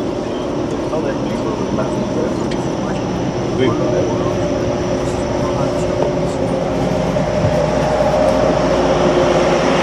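Continuous low rumble and rattle of a moving, fairly full GO Transit commuter train from inside the car, with faint background chatter throughout.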